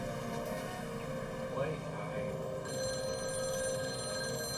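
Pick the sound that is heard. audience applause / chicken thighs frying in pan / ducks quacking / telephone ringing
telephone ringing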